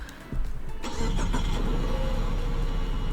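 A 1990 Honda CR-X Si-R engine starts up in the Roblox game Greenville, with a brief crank followed by a steady, loud idle that holds close and alone.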